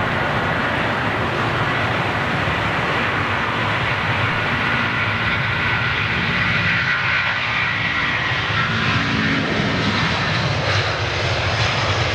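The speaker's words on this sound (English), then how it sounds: "Long spool up on the 330 CF6 powered" An Airbus A330 with General Electric CF6 engines, operated by Delta, spools up for takeoff at Heathrow with a long, steady, loud roar and a broad rushing whine that holds through the whole stretch, no voices.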